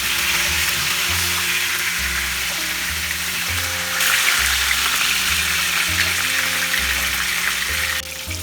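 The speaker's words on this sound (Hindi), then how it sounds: "बोथ साइड हमें शैलो फ्राई करना है।" Salmon fish pieces shallow-fry in a pan, giving a loud, steady sizzle and crackle that continues without pause, with a faint background hum and no voices.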